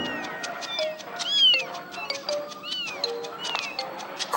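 A mother cat in the video game Amanda the Adventurer 2 gives several rising and falling meows, close and clear, over a quiet low background.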